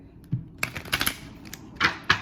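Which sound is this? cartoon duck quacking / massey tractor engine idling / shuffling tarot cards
shuffling tarot cards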